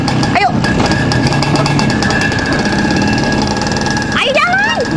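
An old motorcycle engine runs steadily at close range for the whole stretch, a continuous rough mechanical drone, with brief voices cutting in near the start and again at the end.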